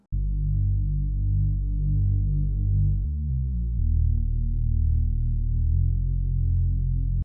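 A deep Reese bass synth with a filter holds long, low sustained notes, shifting pitch a few times in a brief stepped passage midway, loud and alone without any voice.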